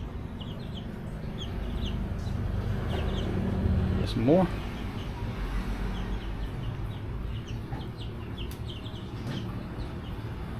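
Baby chickens clucking faintly in a busy outdoor setting, with a louder squawk in the middle and brief talk nearby.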